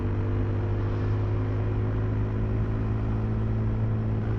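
A 2023 KTM 390 Adventure motorcycle engine runs in fifth gear at a steady cruising drone, with a constant low hum and rushing wind noise and no break throughout.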